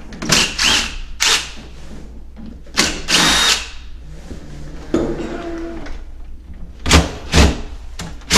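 A power drill backs screws out of a mortise apartment door lock in several short bursts of whirring, separated by pauses with light handling clatter, loud and close.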